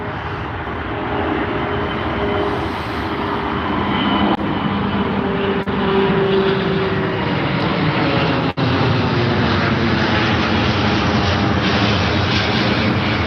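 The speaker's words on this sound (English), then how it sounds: "Nice Virgin Atlantic plane leaving" A Virgin Atlantic Airbus A350 departing Heathrow, its jet engines producing a loud, continuous roar that holds steady and close throughout, with no voices over it.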